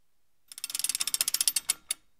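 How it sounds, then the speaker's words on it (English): A hand crank turns in a quick burst of about fifteen even ratcheting clicks, crisp and close, followed by a short pause and one final click. "Search for hand crank."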